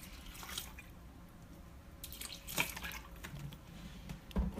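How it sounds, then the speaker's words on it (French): Water poured into a Thermomix bowl holding a rice basket with rinsed rice makes soft dripping and splashing with a few brief louder splashes, close up and without talk. "Et maintenant je vais venir ajouter 400 g d'eau. Donc j'ajoute mes 400 g d'eau."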